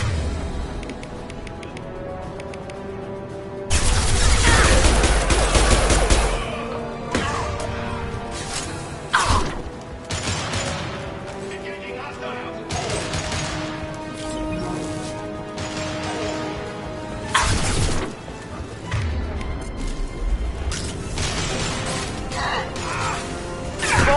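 Impact shot weapon fire in Mass Effect 2, a dense mechanical crashing burst under a continuous bed of combat noise and game music, loud and busy with clanks and smashes scattered throughout.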